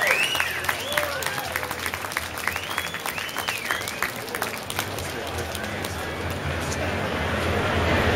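A live audience at a pin-up contest claps steadily throughout, a dense spread of applause with whistles and scattered cheers rising over it, while a voice talks intermittently above the crowd.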